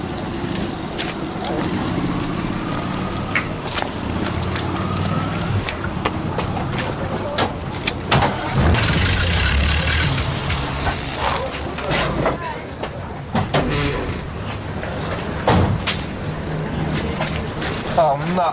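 An old van's engine runs with a damaged exhaust, giving a rough, uneven low rumble with intermittent knocks and rattles while people talk over it.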